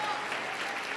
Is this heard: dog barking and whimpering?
no